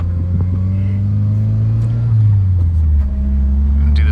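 A 1995 Mitsubishi Eclipse GSX making about 400 horsepower cruises along, its engine droning steadily and loud from inside the cabin, with the pitch sagging and rising as the gears change.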